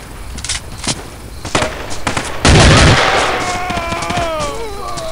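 Shotgun blasts boom in the Battlefield 2 video game: a few sharp shots, then a heavy, loud burst with a long rumbling echo and whining ricochet tails, with other scattered gunfire around it.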